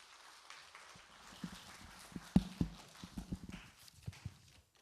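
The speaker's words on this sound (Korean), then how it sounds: "큰 박수로 맞아주시기 바랍니다." Quiet, scattered applause from the audience at a real estate tax seminar, with sparse individual claps that build briefly and then taper off in a small room.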